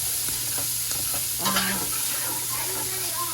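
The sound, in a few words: beef bacon frying in a pan for Hoppin' John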